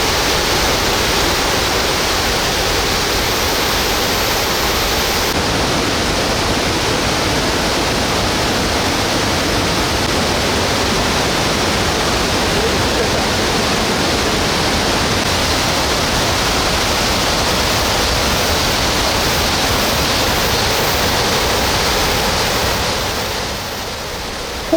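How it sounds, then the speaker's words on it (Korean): Yongchu Falls in Hamyang, South Gyeongsang, running full after heavy rain, a steady, loud, dense roar of falling water and spray that holds unbroken for about twenty-four seconds before easing slightly at the end. "여기는 경상남도 함양군 안위면에 위치한 그 유명한 용추폭포입니다"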